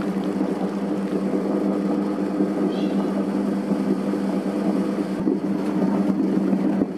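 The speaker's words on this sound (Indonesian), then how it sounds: "Mesinnya langsung saya nyalakan." A dough mixer machine runs while kneading potato donut dough, giving a loud, constant motor drone with a steady low hum throughout, no talking.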